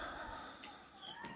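A rooster calls with short clucking and crowing-like notes, faint and somewhat distant against a steady background hum in this brief moment, with no talking.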